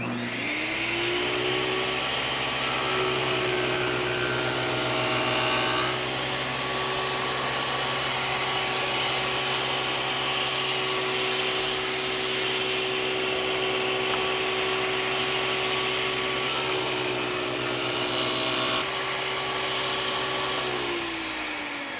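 A table saw fitted with a miter gauge cuts grooves across the grain of a long wooden workpiece, a loud steady motor whine and cutting roar that rises as the blade engages and eases down at the end, with no talk.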